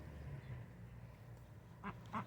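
Ducks gathered at a water dish while feeding give two short, nasal quacks near the end, over a low murmur of outdoor background noise.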